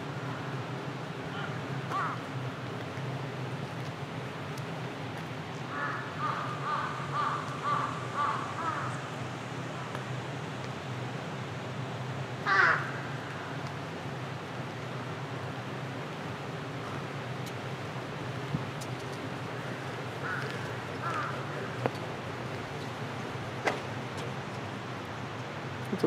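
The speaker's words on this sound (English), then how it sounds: "A lot of crows." Crows caw outside a hotel in Hokkaido in the early morning, a few scattered calls, one louder burst near the middle, over a steady low outdoor hum.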